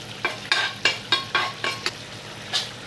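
Dried red chillies and tempering spices dropped into hot oil in a pan, sizzling and crackling in a series of sharp bursts as they are stirred, close and clear with no talk.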